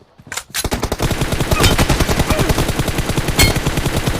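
Rapid automatic gunfire rattles nonstop in a fast-paced team deathmatch shooter game, a loud, dense stream of shots that opens after a short lead-in and keeps going with few breaks.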